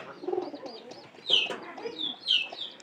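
Pigeons cooing up close, a few soft throaty coos with brief higher chirps from pigeon chicks, no talking.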